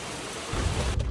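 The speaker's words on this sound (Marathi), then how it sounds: "भयंकर पाऊस आहे हा, भयंकर" Heavy rain driven by strong wind in Ajara during the rice-planting season, a loud, close roar that surges in after half a second and stays dense and steady, with no voices.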